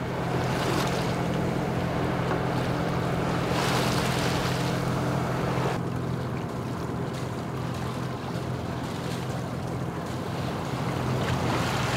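Sailboat motoring under engine power at sea off the Turkish coast toward Istanbul, a constant low engine drone mixed with rushing water and heavy wind buffeting the microphone, steady throughout with no talk.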